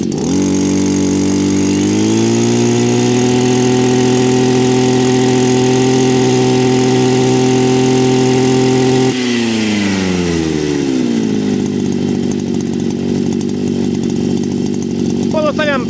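Petrol brushcutter fitted with a 350 mm three-tooth Granit cutting blade, its two-stroke engine revving up to a loud steady high whine, holding, then throttling back down to idle, close and continuous.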